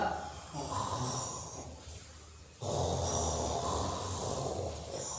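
A voice imitates snoring to demonstrate the throaty Arabic letter kho, two long raspy rattling breaths, close and fairly loud, separated by a short pause.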